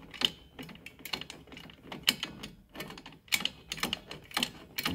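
Pliers work loose a frozen brake drum on a Ford Transit, making a close, rapid run of sharp metallic clicks and ratcheting scrapes in uneven bursts.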